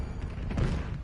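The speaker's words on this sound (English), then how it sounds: "Percussion grenade." A percussion grenade goes off in a video game: one short, muffled boom with a low thump, set inside a dense wash of game noise.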